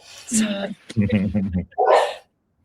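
Dogs bark and whimper in short bursts, close and fairly loud, with a brief silent gap between yelps.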